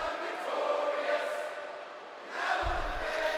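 Arena crowd in WWE 2K22 sings the wrestler's entrance theme, a loud, dense wash of massed voices that dips slightly midway and then swells again toward the end.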